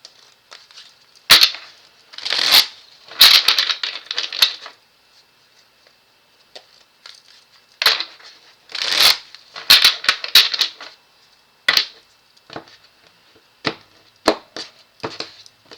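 A deck of cards is shuffled up close for a reading. It sounds like bursts of crisp, rapid flicking clicks in irregular clusters, with short pauses between them and no talking.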